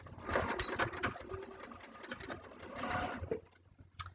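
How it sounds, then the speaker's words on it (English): A sewing machine runs a short reverse stitch on quilt binding, its steady close whirring and rapid needle chatter slowing near the end and then stopping. "I'm going to just do a little reverse stitch, or you could use a locking stitch"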